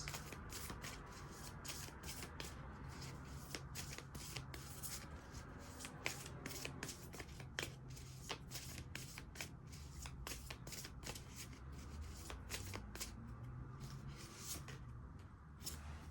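Tarot cards being shuffled close up, a long run of crisp riffling flutters and soft slaps in quick irregular bursts, no talk.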